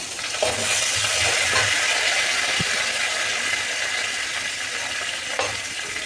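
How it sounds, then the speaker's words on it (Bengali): Curry leaves hit a hot oiled pan with a loud, steady sizzle that keeps hissing throughout, broken by a few faint utensil clinks. "কারি পাতাটা দিয়ে দিচ্ছি"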